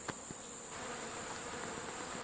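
Bees flying near their hive buzz in a steady, close swarm, a continuous high whine with a few soft knocks near the start.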